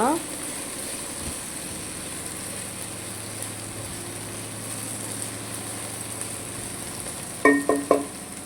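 Okra curry sizzles softly in a pan with a steady low frying hiss, and a few quick clinks of a utensil come near the end.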